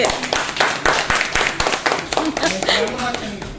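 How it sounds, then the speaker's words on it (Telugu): Guests at a wedding anniversary celebration clap together in a lively, sustained burst of overlapping hand claps, with voices chattering and calling out over the applause throughout. "అందరు క్లాప్స్ కొట్టండి"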